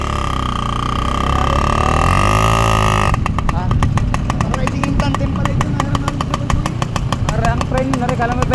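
Motorcycle engine sputtering unevenly at first, then settling into a loud, steady rapid putter close by, running continuously throughout.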